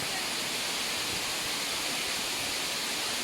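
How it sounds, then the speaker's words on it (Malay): A waterfall at Simpohon Gate on Mount Kinabalu, heard as a steady, dense roar of rushing water that fills the whole clip at an even loudness with no breaks. "kita dah tiba di air terjun yang berada di Simpohon Gate"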